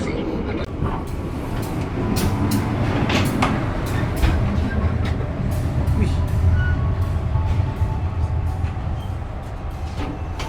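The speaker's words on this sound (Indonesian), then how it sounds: "kereta api Pariaman Express telah tiba di stasiun Duku" The Pariaman Express passenger train arrives at Duku station, its loud, steady rumble filling the platform with scattered metallic squeals and clanks as the carriages roll in.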